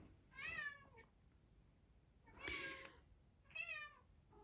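A cat meows three times in a row, each call clear and fairly close, with quiet pauses between them and no talking over it.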